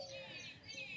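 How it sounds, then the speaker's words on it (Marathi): Sparrows chirp in the morning outside a rural home, thin high tweets overlapping steadily at a moderate distance, with no voices. "इकडं चिमण्यांचा किलबिलाट चालू झालाय."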